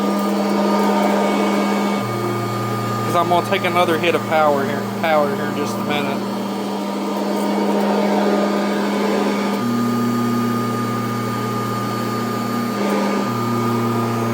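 A Kirby vacuum cleaner runs over carpet with a steady droning whine that changes pitch as the power shifts, while someone talks over the motor.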